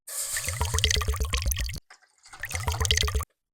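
Water splashes and gurgles as four cups are poured into a pan in two pours, with a short break between them.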